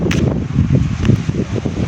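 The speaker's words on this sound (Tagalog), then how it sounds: "ito na po yung lakas ng hangin dito sa Tacloban" Strong typhoon wind sweeps across a balcony in Tacloban, a continuous rough rushing and buffeting roar close to the microphone.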